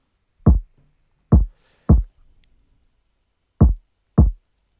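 Kick drum pattern programmed in FL Studio for an Afrobeat track: five deep, punchy booms in an uneven rhythm, a pair, a single, then another pair, each short and isolated against silence.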